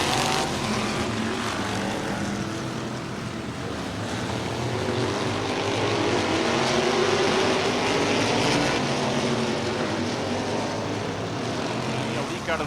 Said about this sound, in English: give these drivers just a quick opportunity to get some heat in the tires and the engine